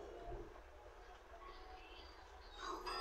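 A light rail LRT train rumbles past at a distance, a faint steady low roar that swells slightly toward the end, with soft voices in the background.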